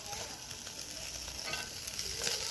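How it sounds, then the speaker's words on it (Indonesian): Beef satay sizzling as it grills on a Teflon pan, a steady close crackle of frying with light scraping and stirring noises, no voices. "Ini dipanggang ya, daging sapinya."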